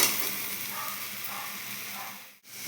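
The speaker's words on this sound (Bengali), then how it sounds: "এই মশলাটা আমি দিয়ে দেবো দিয়ে করে ভালো করে আমি কষাবো" Fried potatoes and a freshly ground spice paste sautéing in a pan give a steady, moderate sizzling hiss that briefly drops away near the end before returning.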